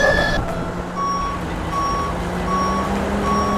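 A blue dump truck moves along with its reversing alarm sounding in steady, evenly spaced beeps over a continuous engine rumble, fairly loud and close, with no talking.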